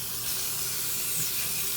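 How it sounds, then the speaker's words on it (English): Bacon slices sizzle in a hot pan on medium heat, a steady, fairly quiet hiss of frying fat filling the whole moment without a break. "So we're gonna drop in the bacon slices. You hear that sizzle?"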